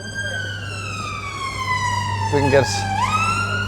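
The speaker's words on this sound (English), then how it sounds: "There's a fucking ambulance coming in or something." An ambulance siren wails outside as it passes, a loud sweeping tone that drops in pitch and then climbs again, over a steady low hum, and a voice speaks briefly partway through.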